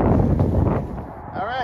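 Heavy gusts buffeting the microphone on a windy day at a flying field for radio-controlled planes, loud and close, with a rumbling low roar that eases briefly then swells again.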